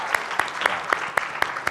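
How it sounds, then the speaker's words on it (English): A lone person claps in a slow, steady rhythm, seven distinct claps spaced about a quarter second apart over a faint room hum, meant as praise for a good question at a talk on overdose crisis system transformation. "Let me just clap for that question."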